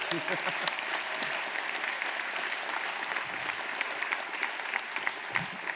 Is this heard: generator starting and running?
no